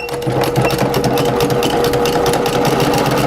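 A sewing machine stitches rag quilt blocks with a loud, steady, rapid mechanical hum and ticking that runs throughout, close up and with no talk.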